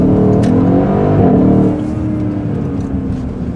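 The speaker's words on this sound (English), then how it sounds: "that popping, screaming, shooting exhaust is just..." A 2015 Mercedes-Benz ML63 AMG gives a loud, close exhaust roar that holds steady, then eases to a lower, rougher drone partway through, with no talking.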